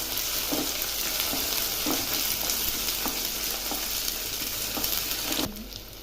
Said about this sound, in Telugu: ఇప్పుడు అల్లం పేస్ట్ వేసాక అల్లం బాగా ఎర్రగా వేగనిస్తాను